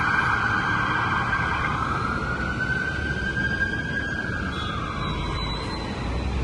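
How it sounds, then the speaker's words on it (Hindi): An ambulance siren wails through road traffic in the UAE, its sweeping tone rising and falling steadily over a constant rumble of passing cars, fairly close and loud. "अगर कोई एम्बुलेंस आ रही होती है ना, तो यहाँ पर इस तरह से रास्ता दिया जाता है।"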